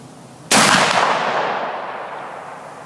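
An inline muzzleloader loaded with 100 grains of Pyrodex RS behind a Hornady Great Plains bullet, in a 1:38 twist barrel, fires a single loud, close shot that rolls off into a long, fading echo.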